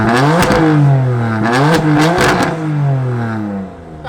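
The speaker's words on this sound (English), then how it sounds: "a quick little exhaust clip so you guys can hear what she sounds like from the outside" A loud, close exhaust of a modified 550 hp BMW M3 revving repeatedly outside the car, with sweeping pitch rises and falls and popping crackles between blips.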